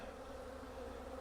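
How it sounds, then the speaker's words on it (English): Dense, steady buzzing of many honeybees flying around a busy bee yard in the afternoon, a continuous close drone with no talk. "Bees flying everywhere."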